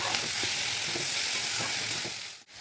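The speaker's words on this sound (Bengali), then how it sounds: "নুন দিয়ে ভালো করে নাড়াচাড়া করে" Salted ivy gourd (kundri) fries in a pan with a bright, steady sizzle, while a spoon stirs through it in regular scraping strokes about every half second. The sound is close, then briefly cuts out near the end.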